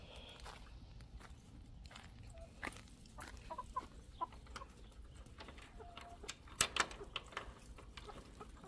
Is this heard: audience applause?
no